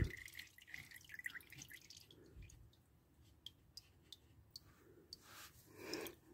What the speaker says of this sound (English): But go ahead and let that drip out.